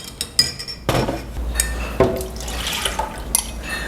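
A coffee and milk mixture for a Thai blended iced coffee is poured into a blender jar, giving a close, splashing liquid pour with clinks of the container and short pauses between pours.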